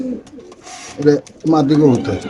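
Pigeons coo at a pigeon sale, soft throaty calls in short bursts heard close by, with people talking over and between them.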